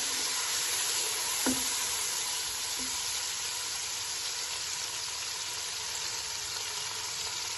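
Onions cook in a pan for matar pulao after a little water goes in, producing a steady, soft sizzling hiss with an occasional faint clink of a utensil, and no talking.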